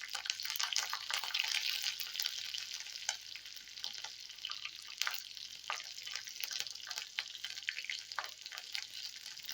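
Green chillies hit hot oil already crackling with mustard seeds in a tempering. The pan gives a quiet, continuous sizzle with scattered sharp pops and spits and no voices.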